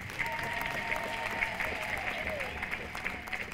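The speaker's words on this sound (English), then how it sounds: "Why don't we give God a mighty hand clap?" A church congregation gives a mighty hand clap during an archbishop's sermon, a sustained spread of applause with some crowd noise mixed in, steady and moderately loud.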